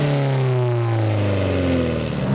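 An Alfa Romeo 4C engine revs hard under acceleration, a loud, close rising roar with climbing harmonics that dips briefly near the end as if between gears, with no voices.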